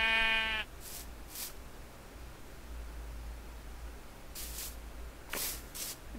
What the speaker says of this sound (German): Wir haben jetzt herausgefunden, dass es sogar Schafe gibt.